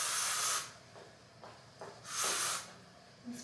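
Two bursts of hairspray hissing from an aerosol can, close by, separated by a pause with a few soft clicks and rustles.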